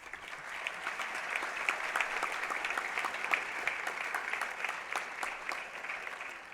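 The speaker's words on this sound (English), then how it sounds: "You've been clapping all along" A graduation audience claps continuously at a moderate distance, a dense even patter of many hands that holds steady throughout with no pause.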